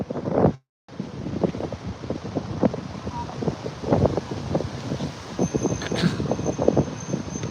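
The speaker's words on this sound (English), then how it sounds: "Can you guys still hear me with all the wind?" Wind buffeting a microphone during a walk through Paris streets, a constant rough low roar with gusty thumps, heavy and close throughout.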